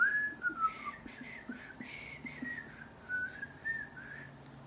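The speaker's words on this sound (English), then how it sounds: "Can you whistle?" A person whistles a wavering, sliding melody, close and fairly loud, in two short phrases over a faint low hum, with no talking.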